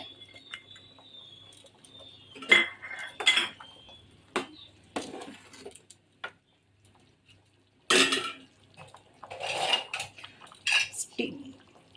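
Scattered metallic clanks and scrapes as a pressure cooker lid is handled and shut over whole moong kadhi cooking, several separate knocks broken by quiet pauses.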